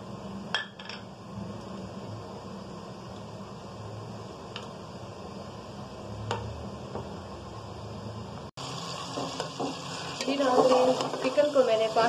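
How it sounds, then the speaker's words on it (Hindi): Chicken fries in a pan with a soft, steady sizzle while masala is stirred into yogurt, with scattered clinks of a spoon against a bowl and louder stirring and scraping near the end. "जब तक हमारा चिकन फ्राई हो रहा है, हम मसाला दही में मिक्स करते हैं।"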